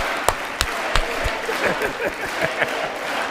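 Audience clapping at a State of the Union address in a large chamber, a sustained wash of applause with a few sharp individual claps standing out near the start, moderately loud and steady throughout.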